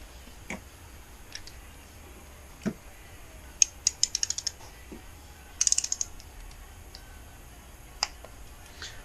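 A torque wrench on a cylinder head bolt during a 2005 Kawasaki Ninja 250 engine rebuild gives sharp metallic clicks and ticks, single taps and quick bursts of several, close and clear over a quiet shop background.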